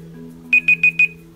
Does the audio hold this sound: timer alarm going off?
yes